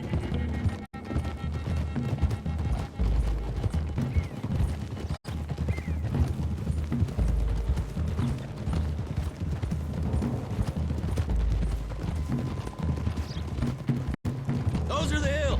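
Horses gallop in Red Dead Redemption 2, hooves clip-clopping in a steady rhythm beneath game music and occasional whinnies, with a voice talking intermittently over the ride.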